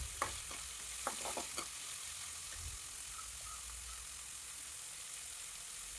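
Chopped onion sautéing in a pan for Kerala-style okra tamarind curry gives a soft, fairly faint sizzle, with several quick scraping taps of a spatula stirring near the start before it settles into steady frying.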